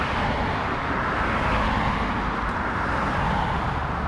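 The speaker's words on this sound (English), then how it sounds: "And there's a long string of cars." A long string of cars streams past on a road in the Florida Keys, heard from a cyclist waiting at a crossing: a loud, steady roadway roar with no gaps and no talk.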